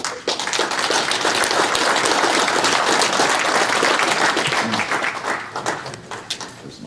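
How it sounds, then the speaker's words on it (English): A press-conference crowd at the 2016 ADRL PRI event gives pro stock legend Larry Morgan a loud, dense round of applause that holds steady, then thins into scattered claps near the end. "Big round of applause for my dear friend, pro stock legend, Larry Morgan."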